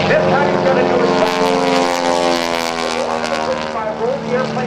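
A propeller-driven aerobatic plane dives at the NAS Oceana airshow, its loud, close engine drone bending in pitch as the aircraft swoops and changes speed.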